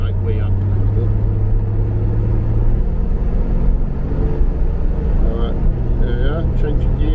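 A Reliant Scimitar driving along, its engine a steady low drone that dips and shifts pitch as it changes gear, with a voice speaking over the running car throughout.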